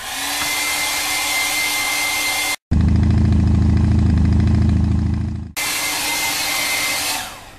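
Hair dryer drying a painted artwork page: a steady loud blowing whir, cut off briefly, then a deeper, heavier roar for a few seconds, then back to the lighter blowing tone before it winds down at the end.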